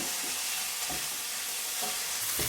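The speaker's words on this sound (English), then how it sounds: "I'm going to drop some olives in here, and I'm going to stir that in" Olives being stirred into chilli pickle in a pan, a steady sizzle with a few soft scraping strokes of the spoon, close and fairly quiet, with no voices.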